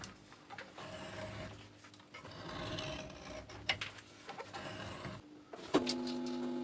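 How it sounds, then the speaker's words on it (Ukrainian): A homemade jig broaching a keyway in a shaft makes quiet, irregular mechanical rasping and scraping strokes, ending in a brief, sharper metallic whine. "Зараз займаюся пробивкою шпонпаса. Завершив виготовляти ось таку приспособу. Працює вона ось так."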